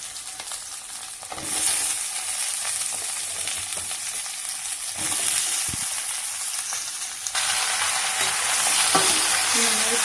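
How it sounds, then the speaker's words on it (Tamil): Cut radish pieces fry in a pan for a village-style radish thuvaiyal, giving a continuous loud sizzle with repeated scraping and clattering stirs, with no talk over it. "இந்த மாதிரி போட்டுட்டு நல்லா ஃப்ரை பண்ணி விடுங்க."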